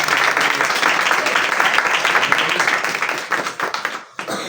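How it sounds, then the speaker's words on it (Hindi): Congregation clapping at a church sermon, dense sustained applause from many hands that fills the space, then breaks off abruptly near the end before a brief resumption. "तालियां बजा सकते"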